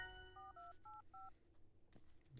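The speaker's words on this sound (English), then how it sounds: "Dialed the number." Touch-tone telephone dialing as a number is entered, four crisp paired beeps in a quick even sequence, faint and with no voices, followed by a soft click.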